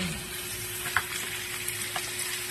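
Ground pork sizzles steadily in a hot pan while being stir-fried, a dense continuous crackle with a few sharper pops and scrapes near the start and middle.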